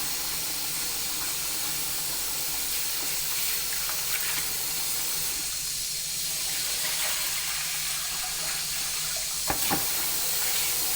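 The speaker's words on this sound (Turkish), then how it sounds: "Pirinç zaten bilirsiniz kirli bir siyah suyu vardır. O çıkar. Bunu ben 6-7 su şöyle yıkayacağım. Ilık suyla." Rice being washed by hand in lukewarm water in a kitchen sink, a steady faucet hiss and gentle sloshing of water, continuous and fairly quiet with a small splash near the end.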